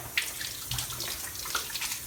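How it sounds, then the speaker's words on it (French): Hands being washed under a running water tap in Mauritius, a close steady splash and trickle with small spatters and drips, no voices. "Lave-toi la main là, un robinet là-bas là."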